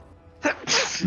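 A single sharp sneeze, close and loud, with a short intake before the burst.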